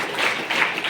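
An audience at an Environment Day honouring ceremony breaks into a dense burst of clapping, a brief, steady wash of many hands close by with no voices over it.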